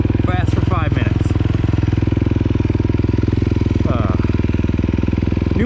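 A 2026 Kawasaki KX250 dirt bike engine running at a steady idle during break-in, a loud close rapid pulsing thrum throughout with brief higher-pitched sounds over it.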